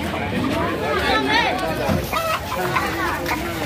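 A rooster at a busy poultry market crows in short, warbling bursts, partly masked by people talking and haggling close by amid general crowd noise.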